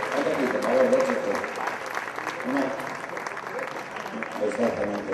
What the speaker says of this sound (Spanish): Un aplauso para el tercer premiado del concurso